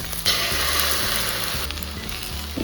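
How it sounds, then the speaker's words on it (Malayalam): Beaten egg hits a hot pan of ivy gourd stir-fry, giving a loud, steady close-up sizzle with a sharp hiss at the pour and light stirring scrapes underneath. "എഗ് ചെയ്ത് വെച്ചിരിക്കുന്ന എഗ്ഗ് ഒഴിച്ചെടുക്കാം"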